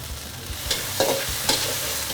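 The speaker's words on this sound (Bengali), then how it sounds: "আগে তেল দিচ্ছি, বনলেস চিকেন" Boneless chicken pieces hiss and sizzle in hot oil, with a couple of sharper crackling stirs breaking through the steady, close frying noise.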